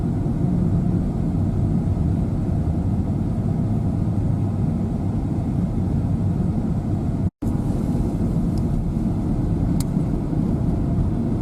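A car driving along a road on a forest trip in the Komi region, with a steady low engine and road rumble throughout and a brief cut near the middle, no voices.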